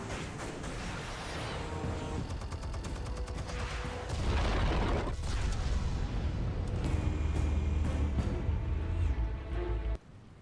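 Explosives going off in the Batman Telltale game make a dense, rumbling barrage of blasts and crackling debris that swells in the middle and cuts off sharply near the end.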